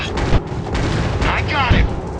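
Bombs explode in an airplane war video game, heavy booming blasts and rumbling over continuous engine-like noise, with a couple of sharp thumps standing out.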